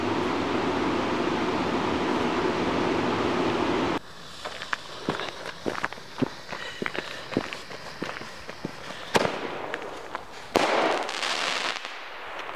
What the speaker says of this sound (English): All right, I have Moroccan Madness from Shelton Fireworks.